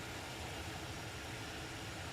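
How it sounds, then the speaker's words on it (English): A steady, faint roar from jet engines in Microsoft Flight Simulator, an even, unbroken drone with no talking over it. "Wish I could turn down the sound of the engines a little bit there"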